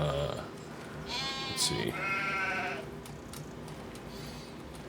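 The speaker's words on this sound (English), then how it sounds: "And then a little update on the sheep." Sheep on a small farm bleat nearby, a couple of wavering calls rising over steady outdoor background noise, with brief talking from a person close by.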